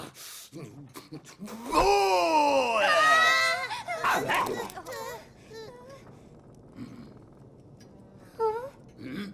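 Several dogs let loose in an animated fantasy scene, loud howling and yelping barks swelling for a few seconds, then scattered yaps and grunts, with no talk over them.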